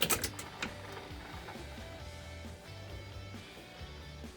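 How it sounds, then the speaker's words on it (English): An electric fuel pump priming in a Chevrolet G30 van fitted with an LS engine swap: a low, steady mechanical hum with a faint ticking texture, pulsing in short on-off stretches. A few sharp clicks sound near the start. "Yeah, fuel pump's priming."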